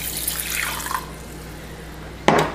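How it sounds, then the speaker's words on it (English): Water being added to a pot of half a cup of rice, a soft running pour that fades out, followed by a brief louder splash near the end. "You're going to add 1 cup of water."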